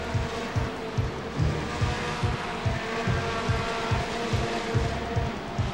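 BriSCA F1 stock cars thunder past the finish line at a race meeting, a dense continuous engine roar with cars pulsing by one after another, loud and close with no talking.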